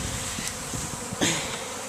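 Bees robbing a hive buzz close and continuously, with brief louder swells as individual insects pass near, over a short stretch with no voices.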